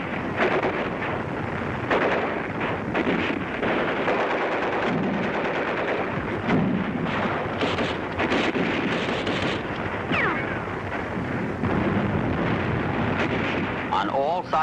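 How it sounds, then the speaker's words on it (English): Dense, continuous WWII-era battle gunfire with machine-gun bursts, including a Vickers and Bren gun, mixed with rifle shots and distant booms, loud and relentless throughout, with a voice speaking over parts of the din. "the old Vickers machine gun that was used in the First World War"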